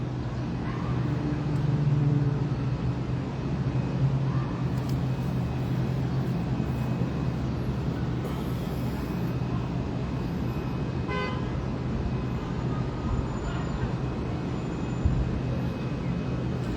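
Heavy city traffic in Honolulu, with car horns tooting repeatedly over a steady roar of engines and road noise, close by, with faint voices in the background.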